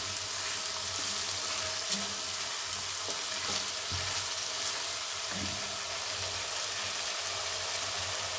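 Spice paste for a broccoli curry sizzling steadily in hot oil in a pan, a soft continuous frying hiss with occasional faint stirring clicks and no voices.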